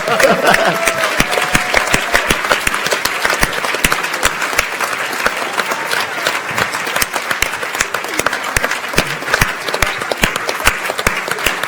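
Audience applause at the FameLab International Final science communication competition, a dense, steady wash of many hands clapping that fills the hall loudly and evenly throughout, with a faint voice briefly audible near the start.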